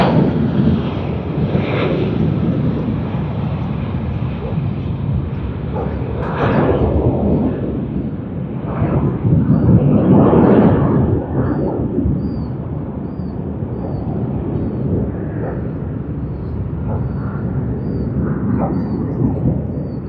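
Jetstar airliner departing Sydney Airport, a loud, continuous rumbling roar of jet engines with deep thundering surges that swell and ease over time.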